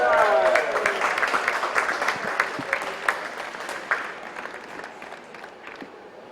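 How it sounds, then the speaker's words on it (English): Crowd applause at a polo match at an outdoor polo club, a burst of clapping that starts fairly strong, thins into scattered claps and fades over several seconds, with a voice briefly heard at the start. "another round of applause for Arden's Fine Jewelers."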